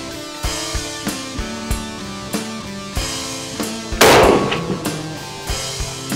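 A Mosin Nagant 91/30 rifle fires at an outdoor shooting range, one loud, sharp report cracking out and echoing, surrounded by a run of fainter, evenly spaced gunshots from other shooters farther off.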